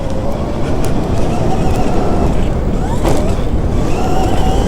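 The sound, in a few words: mini Stark Varg electric dirt bike riding laps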